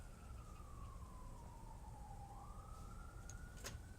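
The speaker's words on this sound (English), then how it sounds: "There's a lot of sirens going on outside." A distant fire or ambulance siren wails steadily outside, its pitch slowly falling and then rising again, over a constant low rumble of traffic.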